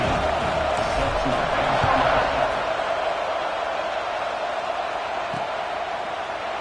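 A college football stadium crowd at kickoff for NC State vs East Carolina makes a steady, loud, wide roar throughout. Faint voices sit underneath.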